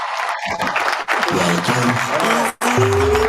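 A small audience applauds at a kidney disease event, giving a dense burst of clapping that briefly cuts out twice, while voices talk over it.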